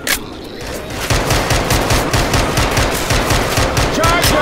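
Rapid automatic gunfire from an MW22 weapon in the zombie shooter game Left 4 Dead 2, a dense, loud burst of evenly spaced shots rattling continuously for several seconds.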